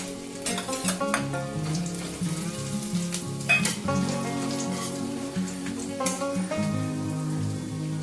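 Whole cardamom, cinnamon, cumin, a chilli, bay leaf and chopped ginger sizzle in hot oil in a pan, a lively crackle and spatter with sharp pops scattered throughout, close and continuous.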